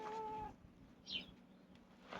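A street cat gives a single short meow, faint and a little distant, against quiet outdoor background with a brief tonal sound at the start.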